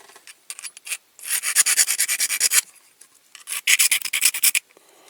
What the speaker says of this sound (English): this axle's going to have to be filed off there, so we'll do that first